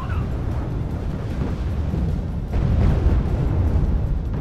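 Artillery strikes landing in Wargame: Red Dragon, a Cold War strategy game, come through as a continuous low rumble of blasts that swells louder midway, with no clear separate booms standing out.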